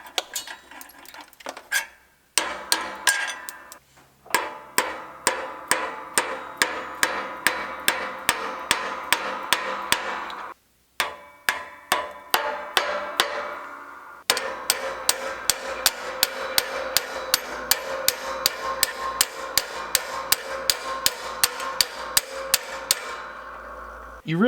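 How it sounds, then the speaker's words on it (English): Metal hammer blows ring out against a body panel on a 1979 Camaro barn find, coming in fast, steady runs of sharp strikes with brief pauses between bursts. "You're supposed to be able to hammer these out, and it just completely fell apart."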